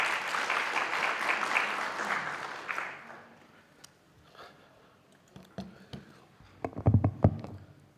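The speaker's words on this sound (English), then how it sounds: "Let's give them a round of applause." Audience applause at a college policy conference welcoming a panel, starting dense and fairly loud, then thinning into scattered claps and a few louder isolated ones toward the end.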